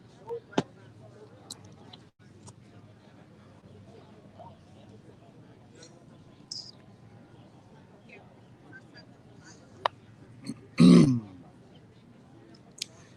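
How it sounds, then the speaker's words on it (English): A man clears his throat once in a short rough burst outdoors by a courthouse, set against faint background noise and a few scattered clicks. "I'm having to clear my throat a bunch from that house fire yesterday."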